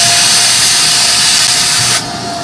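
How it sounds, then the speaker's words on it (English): A vacuum cleaner pulls dust out of small holes on a Glowforge laser cutter, a loud steady close-up roar and hiss that drops sharply in level near the end. "I also like to suck out these little holes up here"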